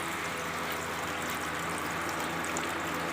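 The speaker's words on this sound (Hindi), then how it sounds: "अब इसको मैंने ऑन कर दिया है, आपको इसकी आवाज़ भी आ रही होगी, बहुत ठंडी आवाज़ देता है।" A DC-powered air cooler runs with its fan spinning and its water pump lifting water, making a steady, continuous broadband whoosh with a watery trickling wash, close and even throughout with no talk.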